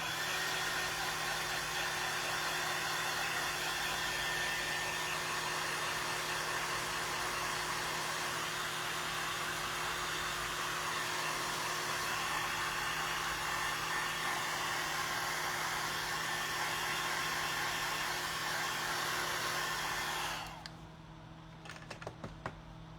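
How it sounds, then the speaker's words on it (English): A heat gun blows hot air over a handmade strawberry craft piece, a steady loud broadband whoosh with a faint motor hum that runs nonstop for about twenty seconds before cutting off abruptly, leaving quiet handling noises. "And I'm just going to touch it up with the heat gun."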